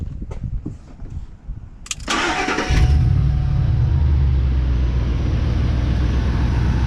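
A Ford F150 pickup with 320,000 miles, recently fixed for a lean-running fault, cranks and catches, then settles into a steady, loud, close idle that rumbles on evenly without talk.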